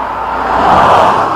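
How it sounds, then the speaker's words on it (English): A car passes close by on a foggy road, its engine and tyre noise rising to a broad whoosh and then starting to fade. "Cars are really annoying."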